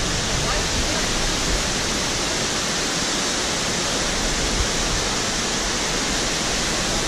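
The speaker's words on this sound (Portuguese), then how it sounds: "Terceira cachoeira, hein?" Three Patamares waterfall in Corupá pours in a steady, dense broadband roar that fills the whole clip evenly, loud and constant with no breaks and no voices over it.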